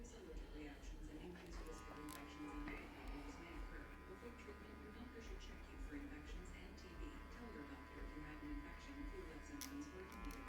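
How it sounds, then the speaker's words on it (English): Electric hair clipper with the lever fully closed buzzing steadily close by while cutting a low shadow fade at the bottom of the line, a constant hum behind scattered light handling sounds. "I got the clipper all the way closed, cut as low as possible, hitting the bottom of the line"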